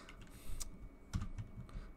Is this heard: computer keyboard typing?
yes